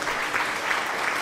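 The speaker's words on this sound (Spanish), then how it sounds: "¿Qué ha sido eso del aplauso?" Applause sound effect from the video game Inked: A Tale of Love, a short, dense burst of clapping that runs evenly without a voice over it.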